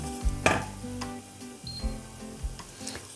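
Ginger and turmeric sizzle in a pan while being stirred, with a few clicks and scrapes of a utensil against the pan, moderately close, with no talking.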